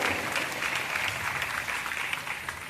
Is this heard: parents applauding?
yes